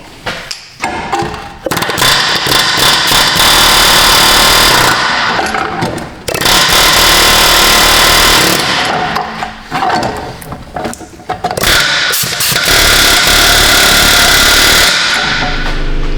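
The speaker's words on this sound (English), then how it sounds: "And then we do a little air hammer action." A pneumatic air hammer fires in long, loud rattling bursts on a Toyota Prius rear wheel bearing, three or four of them separated by short pauses, close and harsh.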